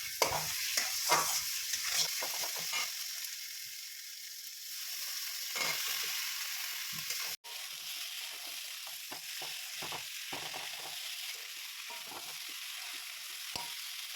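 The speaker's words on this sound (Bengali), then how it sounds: "আলু সিদ্ধ দিয়ে টমেটোর সঙ্গে একসাথে ভালো করে কষিয়ে নিচ্ছি" Mashed boiled potatoes cooked down with tomatoes in a pan, a continuous close sizzle broken by repeated scraping stirs and spoon knocks, with no voice.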